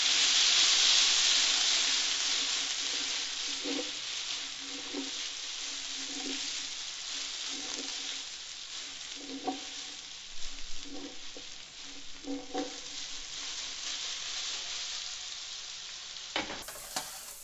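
Vegetables fry in a hot pan with a loud continuous sizzle and steam hiss, while repeated tossing and stirring strokes break through in bursts, ending in a sharp clatter.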